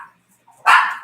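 A dog gives one sharp, fairly loud bark after a stretch of near silence, with a faint yip just before it; no one speaks.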